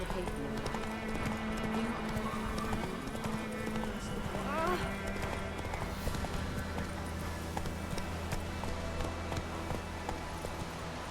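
Horse hooves clip-clopping at a steady galloping rhythm on a road in The Witcher 3, continuous and close, with game voices and ambient sound layered over the hoofbeats.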